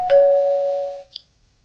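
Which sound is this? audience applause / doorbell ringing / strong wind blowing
doorbell ringing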